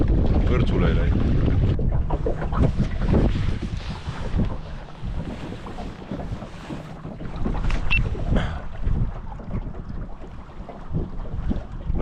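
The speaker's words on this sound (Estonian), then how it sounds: "nagu ilmaennustus ütles, päris korralikult puhangud" Strong wind gusts buffet a sailboat, a loud roaring rush that swells and eases across the clip with boat and water noise beneath, while a person talks over it.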